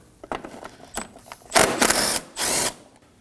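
A ratchet works a 10mm bolt on a 2016-2020 Kia Sorento 2.4L during AC condenser replacement, giving short, close bursts of clicking and whirring, with the two loudest bursts near the end.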